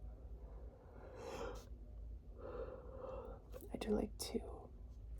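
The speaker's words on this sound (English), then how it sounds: "please excuse me, that was crazy timed yawn." A drawn-out, breathy yawn close to the mic, a couple of long airy exhalations followed by a few short sniffs and breaths, all fairly quiet.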